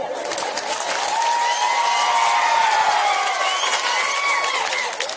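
A large crowd at an outdoor political campaign rally applauding and cheering, dense sustained clapping with whoops and a rising shout, loud and continuous throughout.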